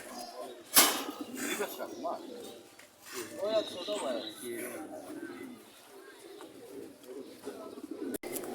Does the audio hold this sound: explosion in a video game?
no